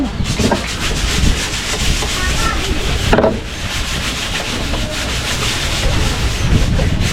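Steady, continuous rasping of sandpaper scraping back and forth over wood, loud and close, with a brief pause in the middle.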